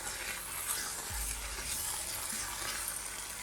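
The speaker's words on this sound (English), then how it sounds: "And we're gonna actually stir that into it." Mozzarella being stirred into simmering one-pot pizza pasta, a soft, quiet bubbling sizzle with a faint scraping spoon and a low thud partway through, close and without talking.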